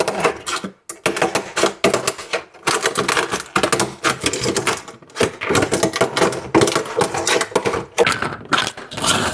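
A thin plastic cake tray is cut up for miniature-making, producing a dense run of rapid, crisp crackling clicks and snips with brief pauses between bursts.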